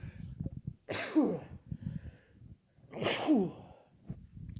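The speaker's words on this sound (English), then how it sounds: "I think that's the first time I've ever sneezed on the fucking podcast" Two loud, close sneezes about two seconds apart, each with a sharp intake of breath before it, and quiet background noise between them.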